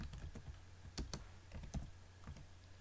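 Keys clack on a computer keyboard during spreadsheet entry in Excel, a quick run of light taps with a few sharper, louder strikes such as the enter key, close and clear with no talking.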